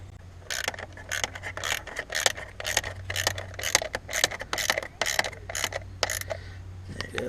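Bolts on the distributor cap of a Mazda MX6 / 626 / Ford Probe are tightened with a ratchet, a close, steady series of quick clicking bursts repeating about a dozen times with no talk.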